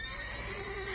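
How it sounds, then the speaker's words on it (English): Horse whinny from The Witcher 3 video game, a sustained, bright neigh that holds its pitch across the whole second, close and clear with no talk over it. "Worthy of the best horse. The mare is yours."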